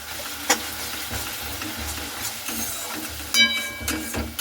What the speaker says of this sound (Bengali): তো খুব ভালো মতো করে আবার একটু নাড়াচাড়া করে নিচ্ছি।